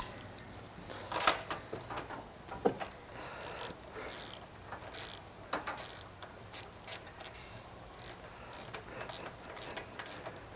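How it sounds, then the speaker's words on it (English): A ratchet tightens spark plugs on a Cub Cadet XT3 lawn tractor, giving a few sharp clicking bursts followed by softer intermittent mechanical ticks and handling noises, close and fairly quiet. "Here's our ratchet."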